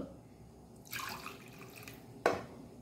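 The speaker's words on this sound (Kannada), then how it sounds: "ಈಗ ನಾವು ಆಗ ಮಾಡಿದ ಮಿಕ್ಸಿಗೆ ಸ್ವಲ್ಪ ನೀರನ್ನು ಹಾಕ್ಕೊಂಡು" Small amount of water poured into a mixer grinder jar, two brief splashing pours with a quiet gap between them, close by and fairly soft, against a faint kitchen background with no talking.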